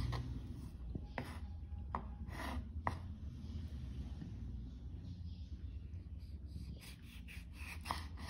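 A knife cuts a radish into round slices for an ensalada, sounding as a series of crisp, close chops over a low, steady background.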